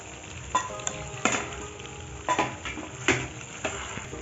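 Potatoes being stirred as they fry in plenty of oil alongside duck meat in a home kitchen, with a steady sizzle and several distinct scraping strokes of a spoon against the pan.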